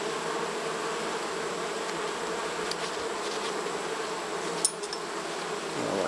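Honey bees at an opened hive during autumn hive work, a dense continuous buzz that stays close and steady throughout, with one brief faint knock near the end and no voices.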